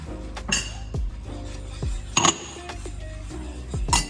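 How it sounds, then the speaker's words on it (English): Rum and banana liqueur being stirred in a pan for bananas Foster over a light simmer, with repeated metallic clinks of a utensil against the pan at an irregular rhythm, close and fairly loud. "Stirring."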